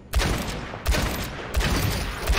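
Ashe's rifle in Overwatch fires zoomed-in, three loud, booming shots spaced evenly about a second apart, each one trailing off into a rumbling echo.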